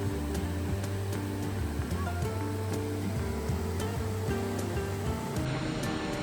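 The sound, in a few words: waterfall and rustling leaves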